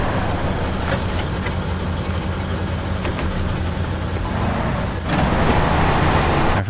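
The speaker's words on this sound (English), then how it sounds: "Surprised at how easily my truck is driving at the moment on nice flat paved no problem road" A truck in the video game Snowrunner drives along a flat paved road, its engine a loud, continuous low drone with steady road rumble and a slight swell in level near the end.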